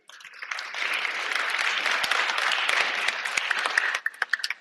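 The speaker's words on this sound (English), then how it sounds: "Please join me in a round of applause welcoming our keynote speaker." An audience in an auditorium applauds steadily, welcoming a keynote speaker, a dense wash of clapping that fades out into a few scattered last claps.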